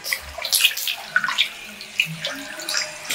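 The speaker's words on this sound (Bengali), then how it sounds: "এবারে মাংসটা বেশি ধোবো না, একটাই ধোয়া দেবো আমরা।" Mutton gets rinsed under running water, with uneven splashing and trickling as the meat is handled and gurgling, fairly close, and nobody speaking.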